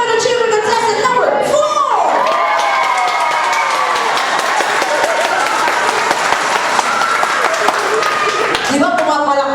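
Crowd at a child's fourth birthday party clapping and cheering loudly during a cheering contest, steady applause with shouts and voices mixed in throughout, close and dense.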